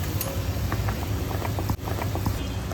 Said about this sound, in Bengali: এবার ঝোলটা ফুটে উঠেছে